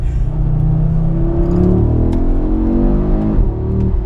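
An Audi RS3 engine revs down, its deep throaty roar sliding lower in pitch with a rumbling burble, loud and close.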